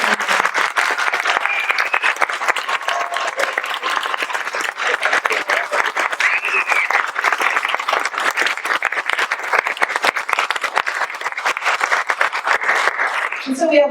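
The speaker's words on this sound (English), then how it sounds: "how about one more round of applause for these wonderful seniors?" Sustained, full applause from an audience honouring graduating seniors at a high school instrumental concert, a dense crowd roar of clapping that keeps steady throughout.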